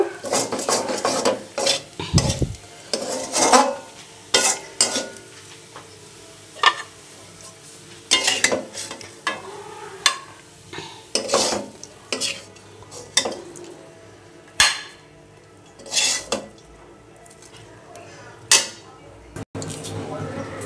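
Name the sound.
taking fried greens out of the pan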